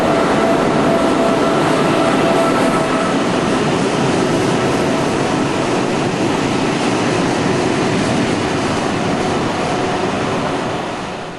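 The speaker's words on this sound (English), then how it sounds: "This looks like our train." A French passenger train bound for Arles via Tarascon pulls into the station at Nîmes with a steady, loud roar and rumble that gradually fades as it slows, with no talk.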